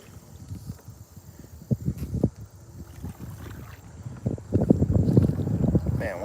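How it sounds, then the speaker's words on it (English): Wind gusts rumble and buffet the microphone while a boat is paddled out on the water during bass fishing, swelling louder toward the end with no talking. "once this wind really picks you up, it takes you."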